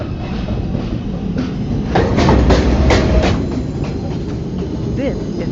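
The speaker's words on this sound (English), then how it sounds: "This is a Manhattan-bound 2 train." A New York City subway 2 train arriving at a station platform, loud rumble and rhythmic wheel clatter swelling in the middle with brief metallic squeals, then easing as it slows.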